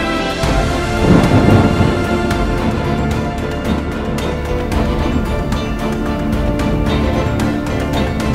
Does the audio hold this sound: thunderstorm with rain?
yes